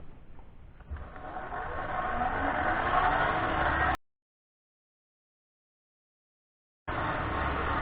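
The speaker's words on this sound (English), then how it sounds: "So turn the lathe back up now to about 2000 RPM, and let's get some shine." A wood lathe spinning at about 2000 RPM while finishing a segmented walnut and osage orange pen: a steady whirring hum that rises slightly, then cuts out for a few seconds before resuming.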